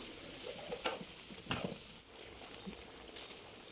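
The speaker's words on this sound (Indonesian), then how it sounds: "Diaduk-aduk sampai bumbunya berbau matang ya" A garlic, ginger and tomato spice paste fries and is stirred in a pan, giving a soft, steady sizzle with scraping stir strokes at intervals, heard alone at close range.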